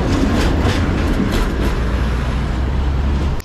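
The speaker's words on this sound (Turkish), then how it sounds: "Tramvay gidiyor." A Sarajevo tram passes close by with a loud, continuous rumbling roll and a few rhythmic rail clacks early on, then the sound cuts off at the end.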